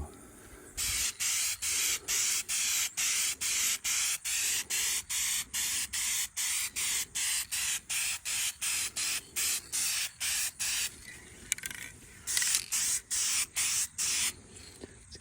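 Primer is spray-painted onto a repaired plastic front bumper of a 2017 Ford Focus in a long series of loud, close, evenly spaced hissing aerosol bursts with short pauses between, then a final cluster of bursts.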